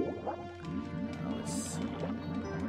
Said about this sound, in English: Mario must be a good swimmer for him to shed water like that.